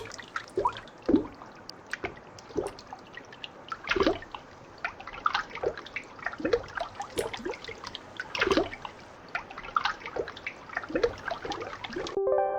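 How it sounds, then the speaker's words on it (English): Water splashes and sloshes in a steady series of wet bursts, close and fairly loud, with no voices; swimming sound effects from a video game. "basically just water sounds, like splashing, water, the sounds that you tend to hear when water moves around"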